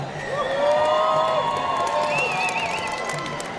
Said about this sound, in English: let's hear a massive round of applause for these guys